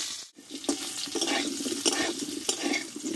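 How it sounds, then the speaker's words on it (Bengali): Potatoes being sautéed in a pan for a vegetarian potato and pointed gourd dish with poppy seeds: steady frying hiss with repeated scraping stirs of a spatula, fairly close, no talking. "আলুটা একটু কষিয়ে নেব বন্ধুরা"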